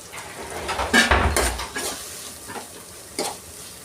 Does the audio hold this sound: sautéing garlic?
yes